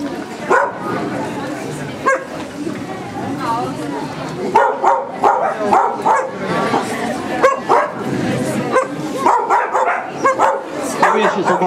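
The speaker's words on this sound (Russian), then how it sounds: "Собака." A guard dog barking repeatedly in bursts during training, with yips and whimpers, while people talk and call out nearby.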